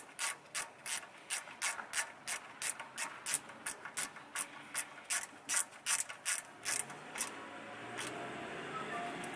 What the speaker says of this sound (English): hold that with a spanner, and then tighten this outside nut just a little bit